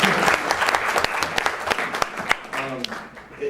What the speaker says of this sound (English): I'd really like to thank her and give her a round of applause.